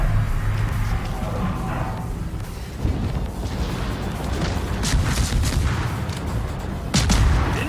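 Japanese 120mm destroyer guns firing in the World of Warships video game, a dense rumbling barrage of booms over continuous engine and sea noise, with a louder thump near the end.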